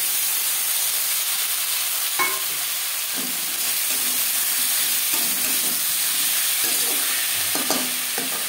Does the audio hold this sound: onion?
yes